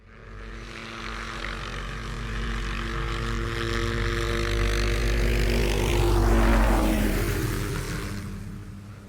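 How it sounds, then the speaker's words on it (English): A helicopter approaches and passes close overhead, its engine roar swelling to a peak and sweeping in pitch before fading, with no talk. "Just then a helicopter flies in and bathes them in bright lights"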